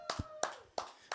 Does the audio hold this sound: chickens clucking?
no